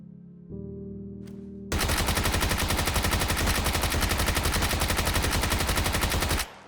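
Rapid sustained automatic fire from a Bison SMG in PUBG, a dense continuous burst lasting several seconds, loud and close, after a short reload-like click and hum.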